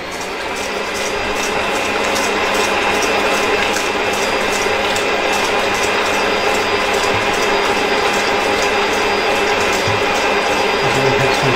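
A loud kitchen mixer beats a butter and pudding mixture for a cake, its motor starting up and then holding a constant, dense whirring rattle throughout.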